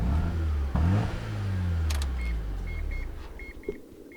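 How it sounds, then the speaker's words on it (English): A 2000 Mazda RX-7 FD Type RB with a rotary engine gets a single sharp throttle blip from idle that swells and fades, followed by a few quiet electronic beeps as the car is shut off. "when you go to turn them off, I give them a throttle blip"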